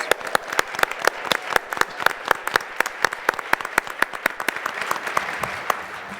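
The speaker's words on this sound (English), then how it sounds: "can you please give these brilliant people a round of applause?" A live audience claps for a panel of speakers at an event. The hand claps are sharp and fairly quick and keep a steady stream of distinct slaps for about six seconds. The applause sounds close and moderately loud, and no one talks over it.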